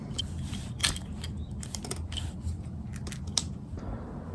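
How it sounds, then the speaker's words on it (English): Wire being cut to length with cutters, giving a series of sharp snipping clicks over a steady low background hum. "Cut one wire to length 1300 mil. Then cut another wire to 800 mil."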